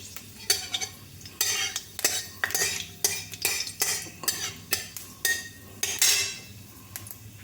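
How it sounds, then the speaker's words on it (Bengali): Panch phoron and two dried red chillies tossed into hot oil for a Bengali tomato chutney, with a spoon scraping and clattering against the pan in a quick, irregular run of sharp strikes over a soft sizzle. "এবার আমি পাঁচ ফোড়ন দিয়ে দিলাম দুটো শুকনো লঙ্কা দিয়ে দিলাম"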